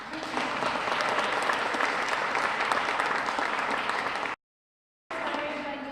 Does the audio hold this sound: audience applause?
yes